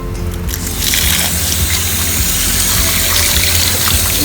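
Steady broadband water running close by while a freshly caught fish is washed and cleaned, a continuous rushing flow that swells louder after the first second and holds without pause.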